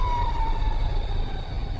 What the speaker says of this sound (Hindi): एम्बुलेंस आकर रुकी